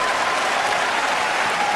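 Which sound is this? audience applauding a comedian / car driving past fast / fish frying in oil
audience applauding a comedian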